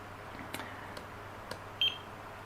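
Short electronic beep from the key buzzer of a GT Power TD610 Pro battery charger, a single faint tone near the end following a few soft clicks, with no talking.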